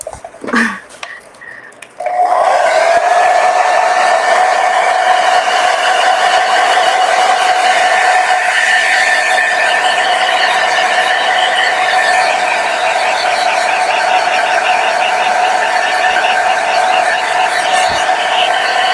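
A hair dryer blows steadily on wet paint covering a sanded plastic Christmas ball ornament, switching on after a brief quiet start and running loud and continuous with a constant whine.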